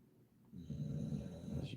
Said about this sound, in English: I'm dealing with this snoring dog